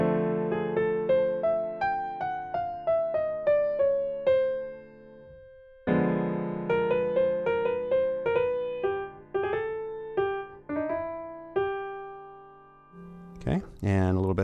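Solo piano played slowly, the pre-intro of a song: a gentle melody over sustained chords with a brief pause midway, ending in a few soft thumps.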